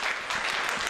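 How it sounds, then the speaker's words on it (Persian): A short burst of audience applause during a public health program, bright dense clapping from many people that stays steady and fairly loud for the whole moment. "از اینا تشویق کنید"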